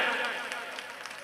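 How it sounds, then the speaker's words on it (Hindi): At an All India Mushaira poetry gathering, the crowd claps steadily, a broad wash of applause with a few sharper claps poking through, with a voice partly audible over it. "बस जोरदार तालियां बजाएं।"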